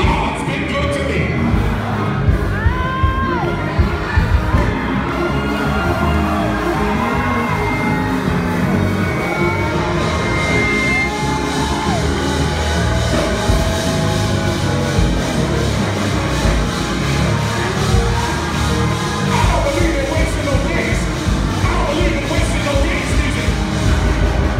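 Church congregation shouting, whooping and cheering through a loud gospel praise break with Kevin Lemons & Higher Calling at a James Hall appreciation event, a dense crowd roar with voices rising and falling throughout.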